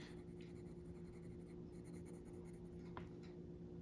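Colored pencil shading on paper, a quiet steady scratchy rasp of the lead across the sheet, continuous and faint against a constant low background hum.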